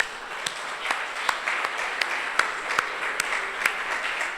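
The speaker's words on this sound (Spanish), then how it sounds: "un aplauso para él" Audience applause at a men's congress plenary, a steady wash of many hands clapping with a few sharper claps standing out, heard close and continuous without talk.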